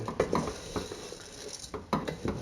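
Close scraping and clanking of a utensil stirring chorizo and arborio rice in an oiled pan, a few uneven strokes over a faint sizzle, with no voices.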